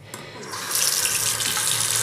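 Water runs steadily from a tap over a hand into a sink. The splash is close and full, and it grows louder and brighter after the first half-second.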